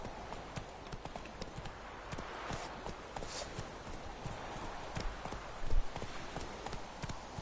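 Roach the horse gallops in The Witcher 3, hooves clopping in a quick, steady rhythm, fairly close and moderately loud throughout.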